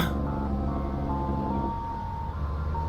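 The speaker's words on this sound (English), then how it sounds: "The ice cream truck!" Ice cream truck from a GTA game, a tinny melodic chime tune playing over a low rumbling engine, loud and close, with no talk over it.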